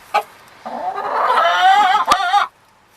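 Hens cluck near a newly introduced rooster, one loud, close bird letting out a long warbling cackle for about two seconds after a brief opening squawk, with no talk.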